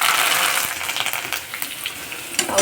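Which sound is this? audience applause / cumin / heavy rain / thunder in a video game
cumin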